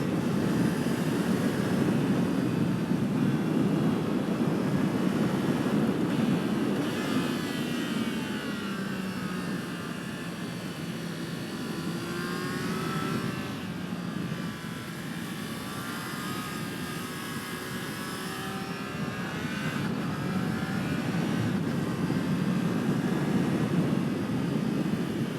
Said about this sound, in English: The bike feels so at home